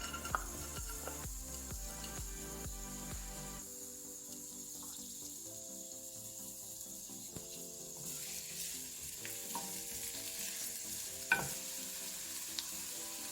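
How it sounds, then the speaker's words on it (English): Four cloves of finely minced garlic sizzling in two tablespoons of olive oil in a hot pan, a steady soft hiss running beneath background music. "add 2 tablespoons of olive oil into the hot pan. And 4 cloves of finely minced garlic."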